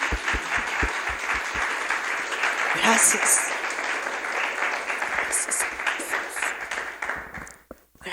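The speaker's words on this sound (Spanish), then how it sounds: "¿No le das un aplauso al Señor?" A church congregation breaks into sustained applause, a broad clapping roar with a few sharper claps early on, while a voice speaks briefly over it before it fades out near the end.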